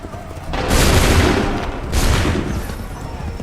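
Musket volleys in Assassin's Creed III: two loud, dense bursts of massed gunfire, each rolling and crackling for about a second before fading into a lingering echoing rumble, with no voices.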